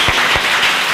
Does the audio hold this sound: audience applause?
yes